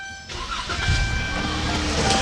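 A car engine with a faulty cam phaser cranks and catches, then settles into a steady running rumble, close by and fairly loud.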